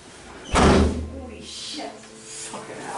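A door slams shut in a single loud, sharp bang, followed by lingering rattles and rustling while people talk nearby.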